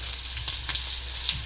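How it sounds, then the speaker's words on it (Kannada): Onions fry in a pan with a dense, continuous hiss and crackle, close and steady, with faint scraping now and then. "ಈರುಳ್ಳಿ ಎಲ್ಲ 1-2 ನಿಮಿಷ ಕಲರ್ ಚೇಂಜ್ ಆಗಬೇಕು. ಈ ಥರ ಚೆನ್ನಾಗಿ ಫ್ರೈ ಆಗಿದ್ದಾಯಿತು."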